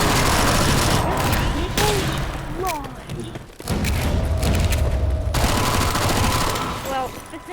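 Sustained, loud video game gunfire comes from dual guns firing at Combine soldiers in rapid continuous bursts, with one brief break in the middle. Faint voices sit under the shooting.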